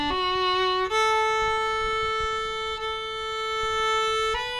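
Fiddle playing a phrase of Darling Nelly Grey, a few clear sustained bowed notes stepping between pitches, close and alone with no talk.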